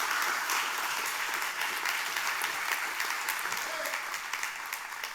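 A church congregation applauds its volunteer worship band of singers and musicians, with steady, dense clapping from many people filling the sanctuary for several seconds, easing slightly toward the end.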